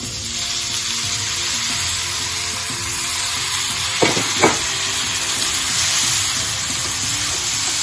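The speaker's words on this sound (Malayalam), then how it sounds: "നന്നായിട്ടൊന്ന് ഇളക്കി കൊടുക്കുക" Boiled jackfruit seeds stirred into a frying masala, steady sizzling hiss with a faint underlying hum, and two quick scraping knocks of the spoon partway through, close up and without speech.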